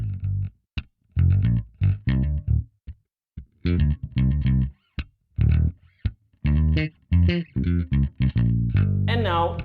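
The low-mid half of a split electric bass signal, heard alone as dense, rhythmic plucked notes in short bursts with gaps, warm and close, no talking.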